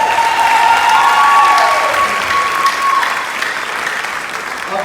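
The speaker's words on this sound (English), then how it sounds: "Give it up for another round of applause" An audience at a beautillion pageant claps in sustained, dense applause, loud and close, gradually tapering off toward the end.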